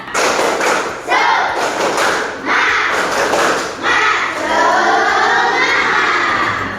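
A classroom of children doing a rhythmic spirit clap, loud bursts of clapping and thumping in a patterned beat close by, mixed with shouts from the group.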